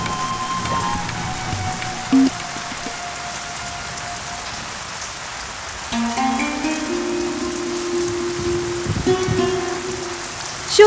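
Heavy monsoon-style rain pours steadily in a continuous loud hiss, with a few brief knocks and a faint tonal sound rising midway, no voices over it.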